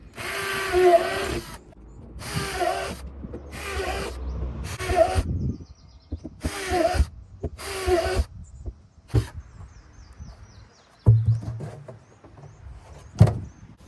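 A power drill with a quarter- or half-inch bit whirs in repeated short bursts, roughly a second each with brief pauses between, boring holes into a hollow plastic drum up close.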